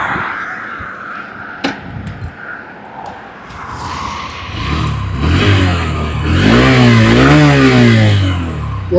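A 2026 Honda Shine 125 motorcycle ridden on the road, its engine quiet at first, then rising into a close, steady hum with rev changes as it gathers speed.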